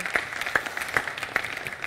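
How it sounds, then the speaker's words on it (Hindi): Studio audience at a televised Hindi magic and auction game show breaking into applause, a brief patter of claps with a few sharper individual hand strikes standing out over a steady crowd wash. "तालियां तालियां तालियां।"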